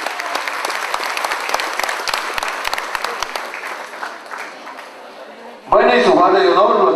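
Guests at a quinceañera party burst into loud, sustained applause with crowd noise for about five seconds, then the clapping fades as a voice begins speaking over a microphone.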